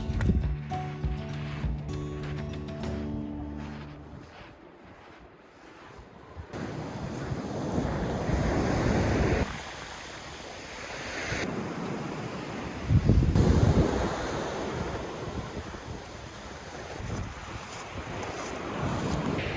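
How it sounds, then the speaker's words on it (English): Surf rolls in on a chilly winter black sand beach in Iceland. Waves break and wash in loud surges while gusting wind buffets the microphone throughout. "We're just at the black sand beaches real quick."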